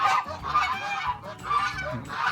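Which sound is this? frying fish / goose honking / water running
goose honking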